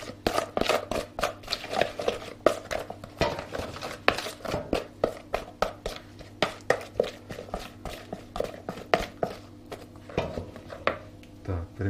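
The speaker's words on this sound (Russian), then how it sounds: "Вот подсолнечное масло. Тоже чуть-чуть. И хорошенько перемешиваем." Potatoes are tossed with sunflower oil and seasoning in a bowl, making a steady run of rhythmic clicks and clatters as the utensil knocks the dish, close and moderately loud.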